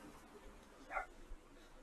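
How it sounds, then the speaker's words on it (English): A dog in a village in a video game gives a single short, faint bark midway through, over a quiet background. "So yes, there's a random dog in this village barking."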